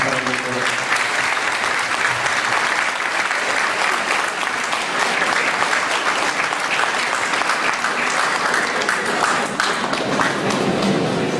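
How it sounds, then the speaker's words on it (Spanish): Audience applause at a ceremony on enforcement of judgments and the constitutional court, honoring a doctor: dense, sustained clapping from a large crowd, steady and loud throughout, with faint voices mixed in. "Fuerte las palmas para el doctor."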